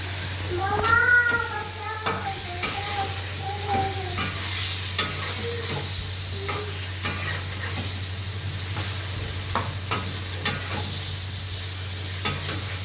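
Boiled fish roe with spices frying in a pan, a steady low sizzle with occasional stirring scrapes, while a cat meows several times early on over the cooking.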